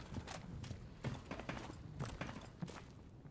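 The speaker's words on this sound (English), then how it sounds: "Those damn footsteps scared me." Footsteps in the video game Stalker Gamma, set in the Red Forest: a steady series of heavy, rhythmic thuds close by, about a dozen steps over a few seconds, with no talk.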